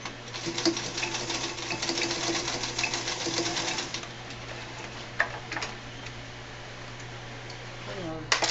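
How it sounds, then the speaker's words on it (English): A sewing machine runs steadily for about four seconds, stitching across the gusset of a bag lining, then stops; a few clicks and handling noises follow in a quieter room with a constant low hum. "You open this up, and then you'll stitch across."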